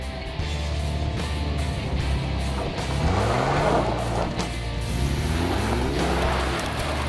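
A Nissan Patrol 4x4 engine labours and revs up and down as it climbs a slope at an off-road club challenge, a close, continuous drone with rising and falling pitch.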